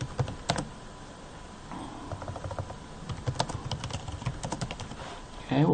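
Close, fairly quiet keystrokes on a computer keyboard come in short quick runs with brief pauses between them, ending in a louder rustle.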